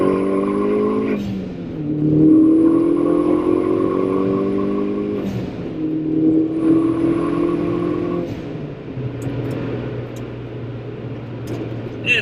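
A Mini Cooper S on a Manic stage 3 tune speeds up onto an interstate, heard from the cabin as the engine revs climb through several gear changes, with a brief drop and lull between shifts and steady road rumble underneath.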